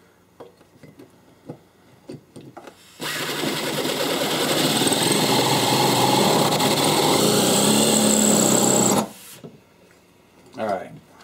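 A power drill whirs loudly and steadily for about six seconds, drilling a pin hole in a taped AK rifle barrel, then stops; faint handling clicks and taps come before and after.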